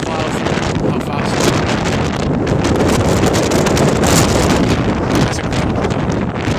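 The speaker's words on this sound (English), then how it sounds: "these winds are easily 110, maybe even 120 kilometers per hour, and I just got a huge gust right now" Strong storm winds of around 110 to 120 km/h gust across Mount Royal in Montreal, roaring into the microphone as a loud, continuous buffeting rush that never lets up.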